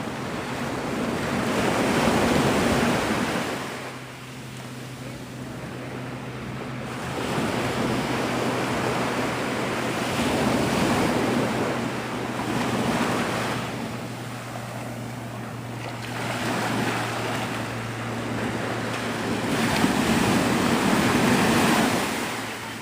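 Ocean waves break steadily on the shore at Navarre Beach, Florida, in a loud continuous wash of surf that swells and recedes, with wind buffeting the microphone and a low engine-like hum underneath.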